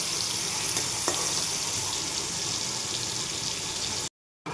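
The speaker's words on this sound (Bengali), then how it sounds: "একটু ভেজে নিয়ে তারপর আবার দুইবারে ভাজবো" Paneer cubes frying in hot oil in a pan give a steady, close sizzle with faint crackles, running evenly before cutting out briefly near the end.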